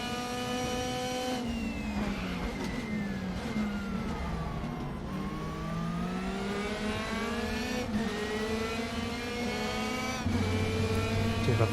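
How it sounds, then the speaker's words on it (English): Raspy DTM touring race car engine in RaceRoom racing sim, revving hard through gear changes with rising and falling pitch sweeps, loud and continuous, alongside other cars. "I do love the sound of this car though, it just really does have a good rasp to it"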